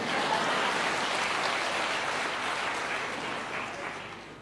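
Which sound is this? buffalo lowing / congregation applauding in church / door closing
congregation applauding in church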